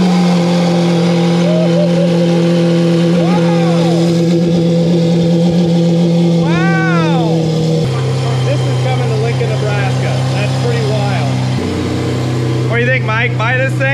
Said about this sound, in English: Lamborghini Aventador. You ready for the startup? Oh, we're gonna do a cold start.